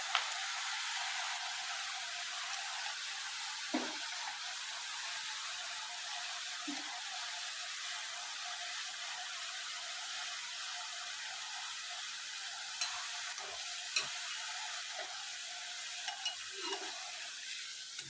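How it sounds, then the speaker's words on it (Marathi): Sev, gram flour noodles, deep-frying in hot oil, a steady close hiss and sizzle with faint stirring and occasional soft crackles and pops throughout, no talk. "तुम्ही बघू शकता आपली शेव या ठिकाणी छान अशी तळून झालेली आहे"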